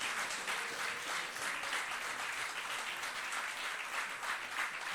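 A church congregation breaks into sustained, dense applause to welcome newcomers. The clapping keeps a steady, full level from start to finish.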